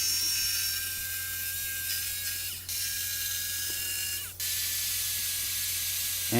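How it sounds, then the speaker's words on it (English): A jigsaw buzzes continuously with a high mechanical whine while cutting a curve in wood, cutting out briefly twice before resuming; no voices. "So here I'm using my jigsaw to cut out the curve."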